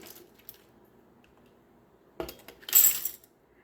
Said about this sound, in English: we're putting a 1/2 cup of Great Northern beans per pint.